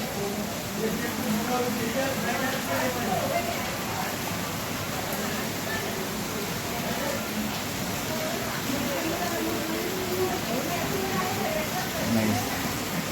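Heavy monsoon rain pours down steadily in the morning, a dense, even hiss that holds at the same level throughout with no breaks.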